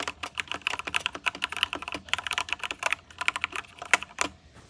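Hard, fast typing on a HITIME XVX M61 60% wireless mechanical keyboard, a dense run of sharp, close clacks in rapid bursts with brief pauses, loud and without voices.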